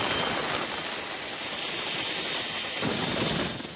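Military rescue helicopters roar continuously at loud volume during a flood rescue operation in Sri Lanka, a steady broad engine and rotor wash that eases off slightly toward the end, with no talk.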